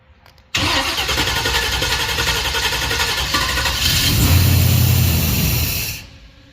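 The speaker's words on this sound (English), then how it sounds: "51 Mercury, 350 Chevy, first start." A 350 Chevy V8 swapped into a 1951 Mercury fires up for the first time, cranking then catching into a loud, steady rumbling idle close by that builds slightly before cutting off.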